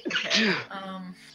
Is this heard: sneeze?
yes